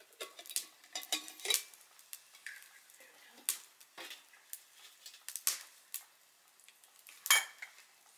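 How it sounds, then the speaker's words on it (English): Metal clinks and scrapes from handling a Stanley 2 cup stainless cook set outdoors in the snow, a series of sharp close taps and rattles with quiet gaps between them. "I'm going to use our Stanley 2 cup cook set."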